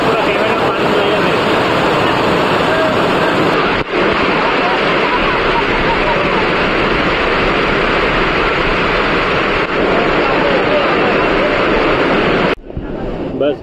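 Parth Waterfall roars as a loud, unbroken rush of falling water close by, with a family's voices blending into the steady noise before it cuts off abruptly near the end.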